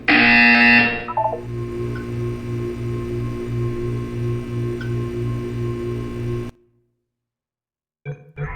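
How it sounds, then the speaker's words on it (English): Electronic buzzer in the Portal 2 video game, a harsh loud tone at first that gives way to a rapidly pulsing buzz for several seconds, then cuts off into silence before brief sounds return. "You will hear a buzzer."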